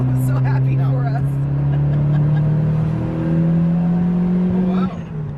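A Mitsubishi Eclipse 2G fitted with a bigger turbo pulls hard, its engine note rising steadily in pitch under sustained acceleration before easing off near the end, with voices talking over it inside the car.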